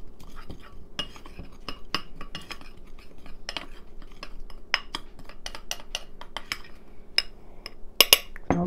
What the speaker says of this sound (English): And let me give it a stir.